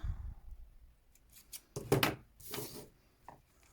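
Scissors snip through yarn while finishing a crocheted Victorian icicle Christmas ornament, giving a few short, close, quiet cuts and rustles that come in separate bursts with pauses between them.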